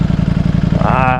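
Idling Ducati Streetfighter V4 motorcycle engine, a 2021 model, heard up close as a steady low pulsing throb that swells slightly toward the end.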